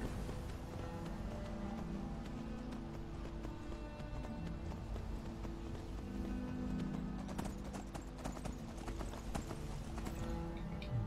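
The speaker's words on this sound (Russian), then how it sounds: "По этой дороге же, по-моему, надо скакать." Horse hooves gallop in the video game Skyrim, a fast steady clip-clop rhythm running continuously, fairly close, under faint ambient wind and occasional soft clatter.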